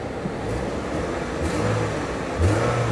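A 2007 Bentley Continental GT with a check engine light on idles steadily up close, with a couple of short revs lifting the pitch, the last one a bit louder.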